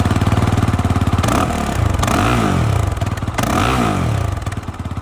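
KOVE 450 rally motorcycle's single-cylinder engine running close by, a fast throbbing idle punctuated by two or three quick throttle blips that rise and fall.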